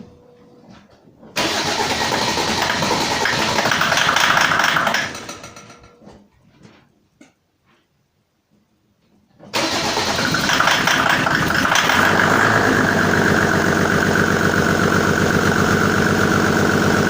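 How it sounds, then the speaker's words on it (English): A car with a 606 engine fitted with a home-calibrated 603 injection pump cranks and fires, runs loudly, falls quiet for a few seconds, then starts again and settles into a steady, close idle. "So now I'm going to start the car and process so you can see how it works."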